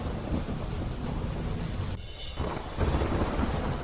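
Heavy monsoon downpour with thunder in Uttar Pradesh: a dense, loud roar of rain on surfaces, broken briefly by a sharp pause and then a deep rumble of thunder rolling back in under the continuing rain.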